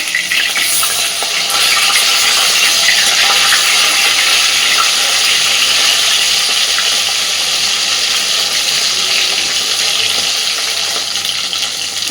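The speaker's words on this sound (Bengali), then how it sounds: "খুব বেশি কড়া করে ভাজবো না মাছগুলোকে" Tilapia fish fry in hot oil in a kadai, cooked gently rather than crisp, giving a loud, steady, dense sizzle that holds unbroken for about twelve seconds with no voices.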